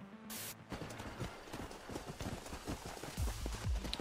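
Horse hooves clip-clop in a quick, uneven patter, fairly faint and close, with a short burst of other noise near the start.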